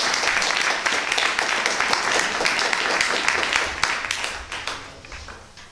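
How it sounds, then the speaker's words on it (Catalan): Brisk applause from a neighbourhood council meeting in Hostafrancs, Barcelona, greeting the re-elected vice president, loud and sustained before gradually thinning out toward the end. "Un aplaudiment per ell."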